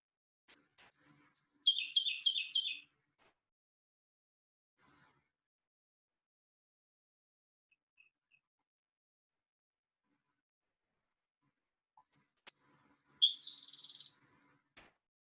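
A songbird delivers two bursts of rapid, bright, trilling song, separated by a long quiet gap, fairly close and clear against near silence.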